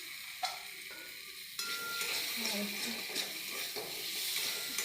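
Spices fry in a pan for a fried paneer and potato curry, hissing loudly and steadily while a spoon stirs and scrapes through them, with a brief quieter gap before the sizzle settles in close and continuous.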